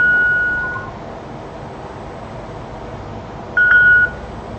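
A mobile phone gives two short electronic beeps, one at the very start and another near the end, clear and steady over a quiet hiss with no talking.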